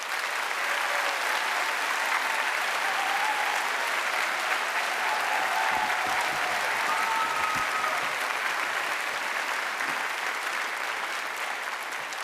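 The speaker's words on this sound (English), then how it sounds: "Please give them a huge round of applause." A large audience at a university graduation ceremony for Chelsea College of Arts claps steadily and loudly for the full stretch, a dense continuous wash of applause with no talking over it.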